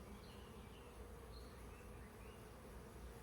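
A honeybee swarm inside a swarm trap fills the air with a dense, continuous buzzing drone, steady and close, with no talk over it.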